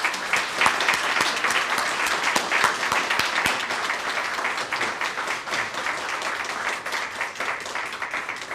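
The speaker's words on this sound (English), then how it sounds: "I want all of us to give the mayor a resounding round of applause" A crowd at a ribbon-cutting ceremony gives the mayor a long, sustained round of applause, dense overlapping claps close and even throughout with a few sharper individual claps standing out.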